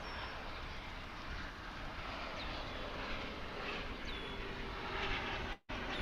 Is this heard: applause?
no